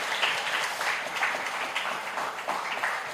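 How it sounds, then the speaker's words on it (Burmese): An audience at a church worship gathering claps together in a steady, moderately loud burst of applause that carries on throughout, with no one speaking over it. "ကဲလက်ခုပ်တီးမယ်"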